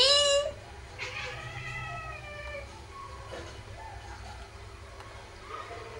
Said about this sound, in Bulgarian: Сейчас, абе котката мяче.